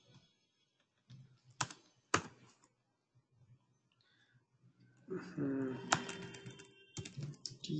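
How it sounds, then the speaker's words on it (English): Scattered keyboard typing: a few sharp key clicks early on, then a denser burst of tapping mixed with some background noise near the end. "I'm very bad in typing."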